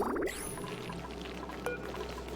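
Clean water pours into a trough in the video game Oxygen Not Included, a soft steady splashing stream after a brief burst of game tones at the start.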